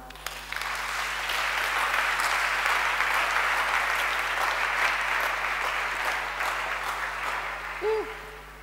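An audience at a French-language Christian seminar applauds in praise of Jesus Christ. Dense, sustained clapping fills the room for several seconds before tapering, with a short whistle-like tone near the end.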